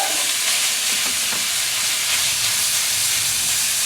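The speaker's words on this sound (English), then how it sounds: "With these onions, hot sausage, breaking it up" Hot sausage and onions fry in a pan, giving a steady, dense sizzle and hiss that runs loud and unbroken, with faint scraping as the meat is broken up.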